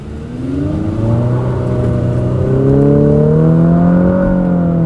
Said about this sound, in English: I'm going to give it a good acceleration here to see how it does.